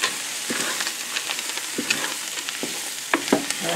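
Frozen chicken sizzling in a Cosori multi-cooker pot on saute mode, a steady close frying hiss broken by scattered crackles, pops and occasional stirring scrapes, with no talking.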